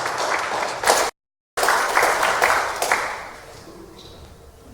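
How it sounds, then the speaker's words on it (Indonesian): A church congregation at a Sunday service claps in warm applause for students' study assignment, a dense burst of clapping that swells, pauses briefly, then fades gradually over a few seconds. "kita beri tepuk tangan untuk tugas belajar mereka ya"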